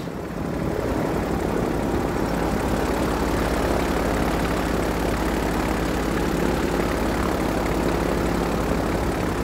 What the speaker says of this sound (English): This is a great little airplane.